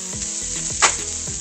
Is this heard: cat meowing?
no